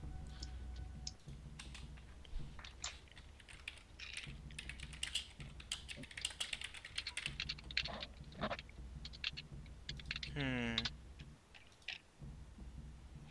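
Busy typing on a computer keyboard during a tabletop Pathfinder game session, quiet irregular key clicks in bursts against a low background hum, with a brief rising tone near the end.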